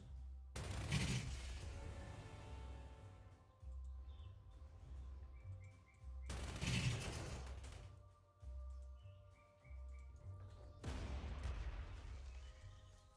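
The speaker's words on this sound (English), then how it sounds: "Hit him with my artillery." Artillery and gunfire in the war strategy game Panzer Corps II come as three separate heavy booms, each a sharp blast with a decaying rumble, separated by quieter stretches, fairly faint overall.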